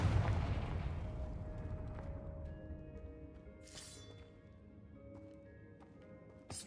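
Confringo spell in the game Hogwarts Legacy, a booming explosion at the start decaying into a long rumbling tail, followed by scattered lighter magical chimes and impacts.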